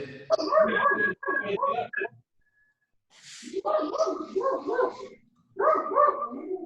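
A dog barks in a room during an adult Brazilian jiu-jitsu class. Several close barks come in bursts, mixed with people talking nearby.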